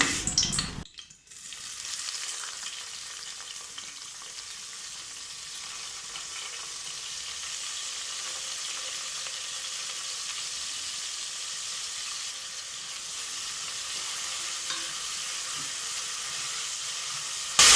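Chopped onions drop into hot oil for mutton biryani, a sharp burst of sizzle at the start settling into a steady, close frying hiss with faint stirring, no talking.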